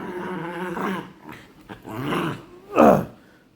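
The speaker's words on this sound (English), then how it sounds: "That's just my dog." Dog growling close by in a few short, rough bursts with brief pauses between them, ending in a louder snarl, with no talking.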